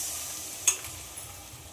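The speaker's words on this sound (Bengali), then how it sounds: "এবার এতে দিয়ে দেব সিদ্ধ করে রাখা ডাল।" Boiled chana dal drops into a pan of sizzling spices and potatoes, making one short, sharp splash over a constant soft frying hiss.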